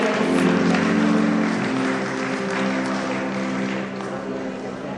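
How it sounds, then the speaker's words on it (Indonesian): An audience at a Lions Club Indonesia ceremony claps for an award recipient. Dense, loud applause fills the room and holds steady for several seconds before easing slightly toward the end. "kita boleh beri aplaus yang meriah untuk Profesor Dr. Hajar Silviana Murni"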